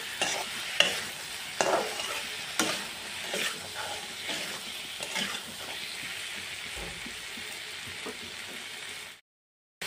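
Spoon scraping and stirring salt through fish curry sizzling in a pan, with a few sharper knocks and clinks early on over steady frying hiss; it goes silent near the end, with no voices.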